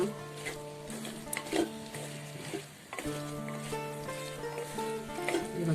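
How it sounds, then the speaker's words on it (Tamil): Moringa drumstick pieces sauté in a pan for a gravy, giving a steady soft sizzle and stirring under a melodic music bed for nearly six seconds. "முருங்கக்காய் நல்லா வதங்கட்டங்க"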